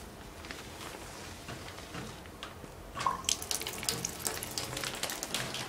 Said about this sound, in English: Want me to turn the water on?